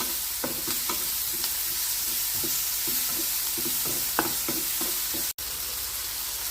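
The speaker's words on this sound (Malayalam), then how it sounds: "അങ്ങനെ നമ്മുടെ തക്കാളിയെല്ലാം ഇവിടെ നന്നായി വഴന്ന് വന്നിട്ടുണ്ട്" Tomatoes sauté in a pan with a constant hiss of frying under repeated spatula scrapes and taps. A sharp clatter comes near the end and no one speaks.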